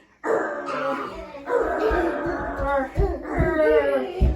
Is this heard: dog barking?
yes